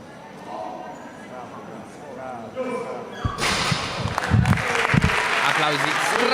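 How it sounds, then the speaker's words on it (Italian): After a lift at a Sardinian powerlifting championship, an arena crowd breaks into loud applause with thuds and cheers, rising suddenly midway over an announcer's ongoing commentary. "Applausi strameritati per Antonio Pischeda."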